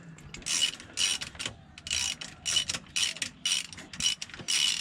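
A ratchet cracking loose the gearbox mount nuts on a 1981 Ford XD with a 4.1 engine and single rail gearbox, in rapid repeated bursts of sharp clicking strokes, close and loud.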